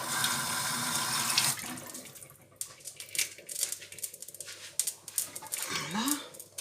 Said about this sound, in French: On va rincer avec un peu d'eau.